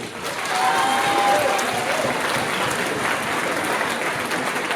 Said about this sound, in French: On l'applaudit, merci.